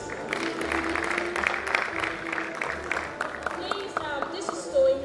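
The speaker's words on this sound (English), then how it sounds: "a round of applause for yourselves" Applause from an audience at a swearing-in ceremony, a moderate wash of clapping through most of the stretch that thins toward the end as a voice begins speaking.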